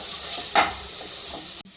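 Garlic sautéing with a little salt in a pan for a fish curry, giving a soft steady sizzle with a brief stir near the middle and an abrupt drop near the end.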